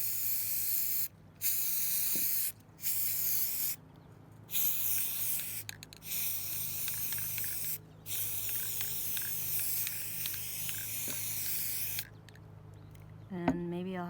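Spray paint hissing onto old window frame pieces, long steady bursts broken by short pauses as the nozzle is released and pressed again, close to the microphone with no talking.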